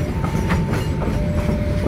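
Steady rumble and rattle of KA Pandalungan passenger train cars, including a dining car, rolling past close by near Sidoarjo station, Indonesia, with a continuous clatter of wheels on track and no voices.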